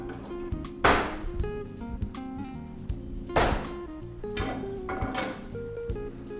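A pan is handled on a stove before searing rack of lamb, giving a few loud, close metallic knocks and clunks spaced several seconds apart over quieter kitchen handling.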